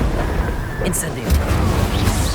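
Fire spell cast during combat in Hogwarts Legacy, a loud rumbling low-end whoosh and burst under a shouted voice, with a short bright crackle in the middle amid ongoing game noise.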